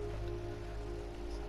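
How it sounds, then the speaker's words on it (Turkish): Rain in the Detroit: Become Human video game, a steady dense patter over a low droning hum with faint tonal lines, constant and unbroken for the whole short stretch. "Hala yağmur yağıyor"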